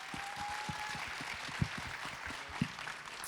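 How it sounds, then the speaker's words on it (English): A short burst of applause, a steady patter of clapping from a crowd with a few sharper claps standing out. "Can we give her a round of applause, y'all?"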